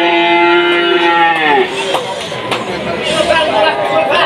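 A cow lets out one long, loud, close moo at the Tuban cattle market, followed by the busy murmur of a crowd and livestock around it.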